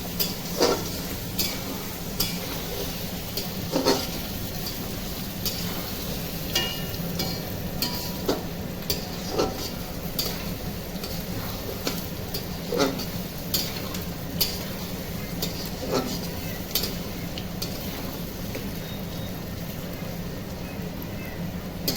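Ghugni being stirred in a cooking pot, a steady scraping and clinking of the spoon against the pot repeating every second or two over a constant low simmering sizzle, close by with no talk.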